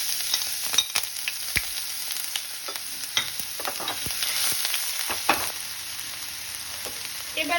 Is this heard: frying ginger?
yes